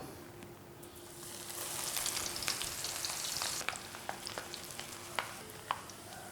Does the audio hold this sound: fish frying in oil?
yes